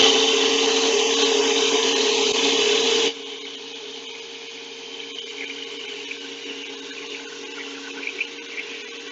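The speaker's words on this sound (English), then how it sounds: "you can see the vortex that it pulls, how it's able to use that tri-blade cutting system to really move all the product around" A commercial tri-blade blender mixes food in a loud, steady whir that cuts down abruptly to a lower, quieter motor hum with faint rattling as it keeps running.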